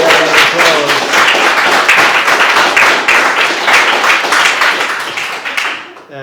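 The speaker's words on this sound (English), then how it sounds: "So an extra round of applause." An audience applauds in a dense, fairly loud burst of clapping at a poetry issue launch, sustained for several seconds before tapering off at the end.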